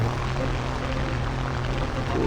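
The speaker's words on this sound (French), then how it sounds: "Des avions de combat, pas les bombardiers" Combat fighter planes flying in the War Thunder Mobile game, a continuous droning propeller-engine roar that holds steady and loud throughout.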